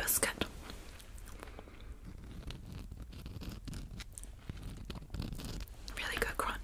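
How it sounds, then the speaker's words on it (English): Close, crisp crunching of a Japanese biscuit snack being chewed in steady bites, with soft whispery speech woven between the crunches. "Crunchy biscuit."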